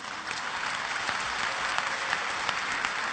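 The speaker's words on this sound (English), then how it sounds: "you're clapping" Audience applause fills a lecture hall after a point in a religious talk, a dense, steady wash of many hands clapping at moderate loudness with no voices over it.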